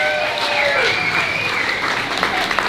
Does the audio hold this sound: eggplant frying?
no